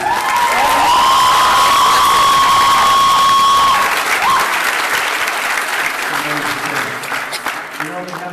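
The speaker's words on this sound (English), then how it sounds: "give Mr. Jim Ripl one more round of applause" Loud, sustained applause with cheering from an audience at a talk by snowmobile backflip rider Jim Ripl, a dense wall of clapping that holds steady and then slowly thins toward the end, with a voice carrying over it early on.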